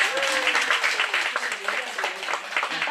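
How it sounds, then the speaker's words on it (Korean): Brief burst of clapping from a church meeting audience, a dense patter lasting a few seconds with a voice talking over it. "자, 박수 하겠습니다."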